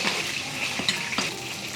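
Pork belly ribs deep-frying in hot oil give a steady, close hiss, with a couple of light metallic clinks from utensils partway through and no talking.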